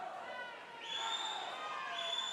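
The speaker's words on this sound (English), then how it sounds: "His Gator teammates cheering him on at the sides of the pool" Gator swim teammates shout and cheer from the side of an indoor pool during a 200 breaststroke race, with high, rising shouts and whoops over a reverberant, busy hall murmur.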